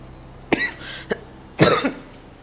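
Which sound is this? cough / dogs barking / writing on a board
cough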